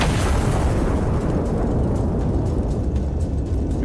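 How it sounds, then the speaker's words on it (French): An artillery cannon fires HE shells in the video game Iron Nest, giving a loud, booming roar that rolls on and fades slowly, with no talking over it. "Canon chargé, HE 3 tirs."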